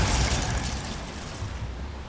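A Bombarda spell blast in the video game Hogwarts Legacy: a broad, rumbling explosion with deep low boom and crackling debris that fades out over a couple of seconds, with no talk.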